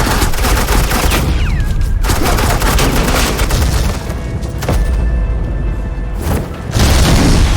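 Sustained suppressing gunfire in Batman: The Enemy Within, a loud, dense stream of rapid automatic shots and booms that keeps going with only brief dips, with no voices over it.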